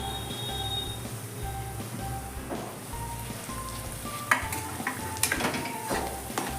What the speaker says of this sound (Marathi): हे लाल तिखट घालायचे आहे थोडंसं तेलात भाजण्यासाठी ठेवायचे कलर छान येतो याने आणि हा राहिलेला मसाला भाजून घ्यायचा आहे